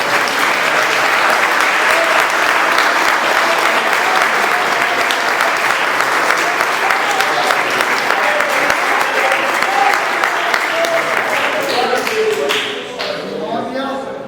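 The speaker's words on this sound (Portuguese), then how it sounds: "Se você sentiu, você pode essa noite aplaudir o nome do Senhor Jesus." A church congregation at an Assemblies of God service applauds loudly and steadily, dense clapping from many hands that holds for over ten seconds before thinning out near the end, with a voice speaking over it.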